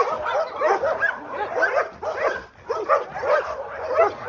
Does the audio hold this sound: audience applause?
no